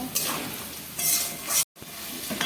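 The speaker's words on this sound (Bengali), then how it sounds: "এখন কিছুক্ষণ ফ্রাই করে নেব" Soybean dish frying in a pan with turmeric and salt, a soft hiss and sizzle swelling in bursts as it is stirred, broken by a brief silent gap.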